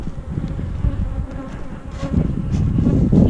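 Honey bees buzz steadily at an open hive in spring, a dense close drone that swells slightly toward the end, with no voices.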